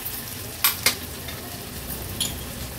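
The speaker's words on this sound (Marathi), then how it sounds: "कांदा थोडासा तेलावर परतून घेते।" Chopped onion with green chillies sautéing in oil for an Agri-Koli style fish thali, a steady close sizzle with two sharp stirring scrapes early on and another later, no talk.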